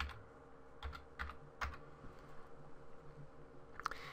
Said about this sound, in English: we will type our login.